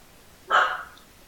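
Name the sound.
dog barking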